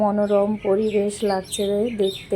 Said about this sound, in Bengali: আর পাখিগুলো কি সুন্দর ডাকছে